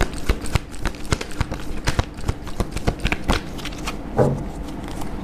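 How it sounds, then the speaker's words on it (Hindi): Tarot cards being shuffled close up, a rapid run of crisp riffling taps and flicks continuing for several seconds, no talk. "एक शफल और करेंगे"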